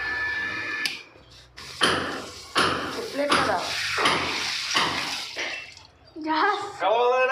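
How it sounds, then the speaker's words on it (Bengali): A repaired Tullu water pump pushes water out in uneven splashing gushes and bursts, with voices heard over the spray. "বন্ধুরা দেখো পাম্পটিতে জল উঠছে।"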